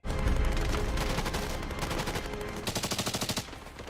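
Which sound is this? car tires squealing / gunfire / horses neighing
gunfire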